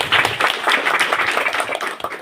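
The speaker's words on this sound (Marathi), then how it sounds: "त्यासाठी आपण तिचंही जोरदार टाळ्या वाजवून स्वागत करूया." A school audience claps loudly to welcome a student host at a Republic Day programme, a dense, close burst of applause that carries on steadily before tapering off.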